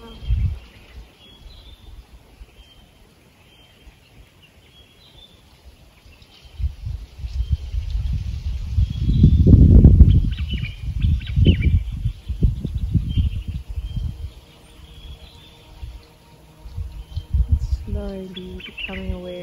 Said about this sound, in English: I can hear birds and a gentle breeze.